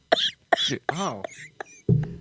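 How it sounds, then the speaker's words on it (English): A few sharp, harsh bursts in a row with short gaps, like someone coughing close to the microphone, ending in a heavier, lower burst. "as she continues to cough"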